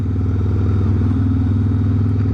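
A Harley-Davidson Dyna motorcycle is ridden at steady speed, its V-twin engine throbbing in a loud, continuous, even low rumble close to the microphone, with no talk over it.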